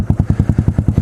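A motorcycle fitted with a Megaton aftermarket exhaust idles close by, its loud, deep exhaust thumping out in a steady, rapid pulse of about ten beats per second.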